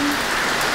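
Steady outdoor rain pouring down on a potted plant, a brief dense hiss of drops at close range with no other sound.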